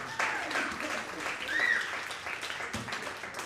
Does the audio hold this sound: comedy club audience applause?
yes